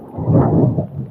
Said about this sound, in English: we are playing in the midst of a thunderstorm